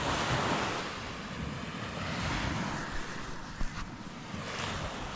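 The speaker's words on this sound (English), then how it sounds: "The storms have kicked up the waves a lot in the lake, and it's almost like the sound of an ocean rolling in." Storm-whipped waves on a mountain lake roll and crash like ocean surf, a continuous broad wash with wind buffeting the microphone and a brief nearer splash, no voices.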